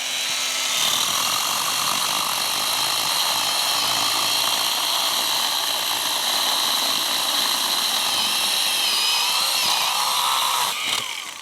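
A ProCraft PKA 32 Li cordless mini chainsaw saws through a thick branch, its high motor whine loud and steady for about ten seconds before easing off at the end.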